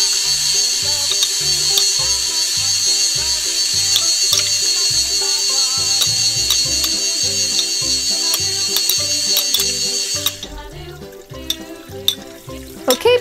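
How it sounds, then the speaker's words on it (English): A small toy mixer churns water and gumballs with a steady mechanical whir and a rapid ratcheting clatter of candy knocking inside the jar, loud and close, then cuts off near the end, leaving a few faint knocks. "let's see how good our mixer is. Oh, look at it blend. It blends awesome."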